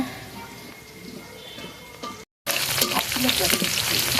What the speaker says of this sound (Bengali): এখানে পেঁয়াজ আর কাঁচামরিচটা ভাজা হচ্ছে।